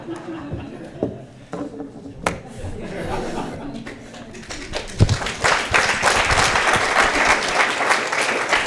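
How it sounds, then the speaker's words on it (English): An audience at the Pacific Crest Trail Association annual meeting breaks into applause that swells and holds steady, with scattered chuckles and voices mixed in. "No more clapping."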